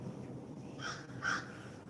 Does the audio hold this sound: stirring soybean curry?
no